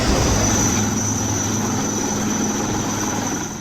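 Army rescue helicopter flying over flooded Ravi river at a CRPF camp in Lakhanpur, Kathua: a steady, loud rotor and engine drone with a low throbbing hum, continuous throughout and no talk.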